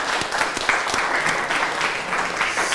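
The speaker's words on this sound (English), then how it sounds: "Another round of applause" Steady audience applause fills a short stretch at the Invention Bootcamp 2022 finale, a dense, even wash of many hands clapping at moderate loudness without pause.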